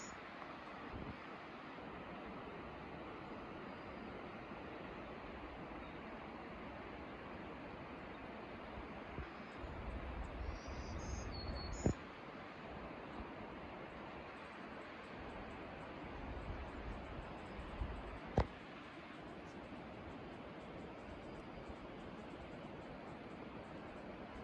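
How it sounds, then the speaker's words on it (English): A faint, steady rush of a river flowing below Tank Hollow Trail, heard from a distance, soft and continuous for the whole stretch, with no talking. "you can hear the river down there"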